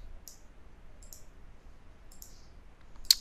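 Computer mouse clicks during Photoshop work, several faint, crisp clicks spaced about a second apart, ending with one sharper, louder click, no voice.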